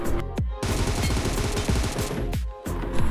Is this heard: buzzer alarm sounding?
no